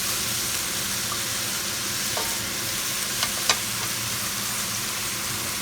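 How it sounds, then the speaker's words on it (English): Prawn heads frying as a base for seafood stock give a loud, steady sizzle that carries on without a break, with a couple of faint clicks near the end. "We're cooking some prawn heads now, just as a base for the stock."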